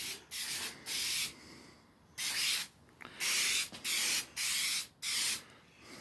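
Clear coat sprayed onto a 1999 Marquis car mirror, heard as about seven short, loud hissing bursts of the spray gun separated by brief pauses, close to the listener.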